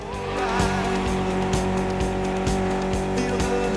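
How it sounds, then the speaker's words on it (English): A Mitsubishi car with a tuned inline four-cylinder engine of about 280 horsepower races in The Crew Motorfest on Xbox Series X, its engine droning loudly under a run of rhythmic tire squeals and skids. "Mitsubishi gave us a nice inline 4-cylinder with already 280 horsepower."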